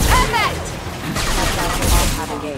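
Heavy cannon blasts in Mass Effect 2 boom out in a dense, continuous barrage, with thick low rumbling and crackling explosions filling the whole stretch at high volume while a voice speaks over them.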